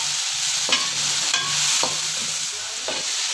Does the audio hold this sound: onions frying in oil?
yes